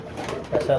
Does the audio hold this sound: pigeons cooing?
yes